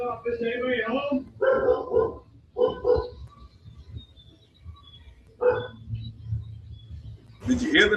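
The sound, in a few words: dog barking inside a house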